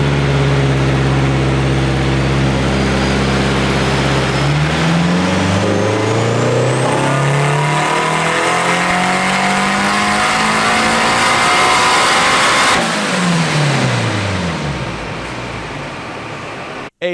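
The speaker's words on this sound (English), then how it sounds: "This is the last remaining footage I have driving the Honda with this motor." A 500hp Honda Civic engine, smoking as it is pushed, roars loud and close while driving. It climbs steadily through the revs, holds a strained high note, then drops off.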